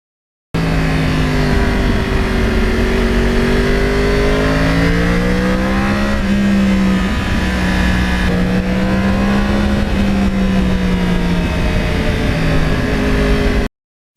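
A 2009 Yamaha R1 Crossplane sport motorcycle rides along quiet back roads, its engine loud and close as it holds a strong, rough drone and rises and falls in pitch through the gears.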